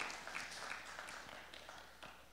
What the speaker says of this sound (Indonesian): Beri tepuk tangan dong untuk Paulus dan Fancy dan tim mesem.